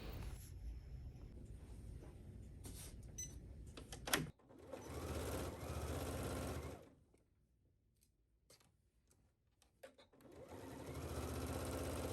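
Sewing machine stitching the shoulder seams of a dress bodice, running in steady bursts with a short stop in the middle before it starts up again.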